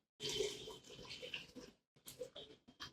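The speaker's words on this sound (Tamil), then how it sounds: "இப்போ சுட வச்ச தண்ணியை சேர்த்து விட்டுடலாம்" Hot water pours and splashes steadily into a cooking pot for seeraga samba chicken biryani, pausing briefly before a few more short pours, close and fairly loud.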